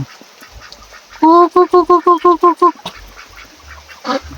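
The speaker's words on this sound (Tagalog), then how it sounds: "Ayan na yung mga pato natin" A run of about eight quick, loud duck quacks in a steady rhythm, close by, with faint background noise before and after.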